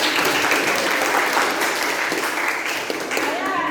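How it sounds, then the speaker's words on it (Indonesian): Steady applause from a group, a dense wash of clapping that holds at an even level for the whole stretch. "Kasih tepuk tangan."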